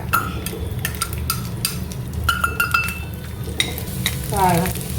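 Coconut pieces frying in hot ghee in a pan, a continuous close sizzle punctuated by repeated sharp scrapes and clinks of a spoon stirring against the metal.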